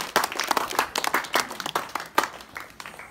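A church congregation breaks into dense, steady applause acclaiming Jesus, many hands clapping together for a few seconds.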